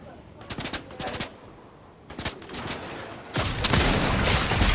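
Automatic gunfire from the Fortnite video game, close and loud in several rapid rattling bursts with short gaps, ending in a denser, sustained barrage.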